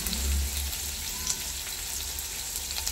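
Cut garlic cloves fry in hot oil on one side of a pan while making misal, giving a continuous close sizzle with soft crackles and a low rumbling undertone.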